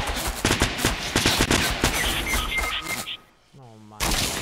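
Fortnite gunfire crackling in rapid bursts through a tense multiplayer firefight, loud and close, with players' voices talking over the shots before a brief lull.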